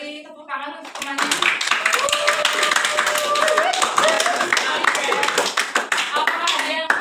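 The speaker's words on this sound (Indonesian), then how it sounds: "beri tepuk tangan untuk temannya" A classroom of students claps for a classmate during a teaching session, starting after a short moment of talk and building into dense, loud, sustained clapping with voices mixed in.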